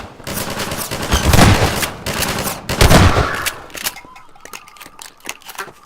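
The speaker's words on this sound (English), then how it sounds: "this shotgun actually works decently even at mid-range there" Shotgun blasts in Half-Life 2, two heavy booming bursts close together with rattling debris and combat clatter, then quieter scattered clicks and impacts as the fight settles.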